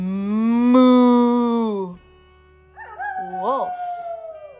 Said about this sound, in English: Can you howl like a wolf with me?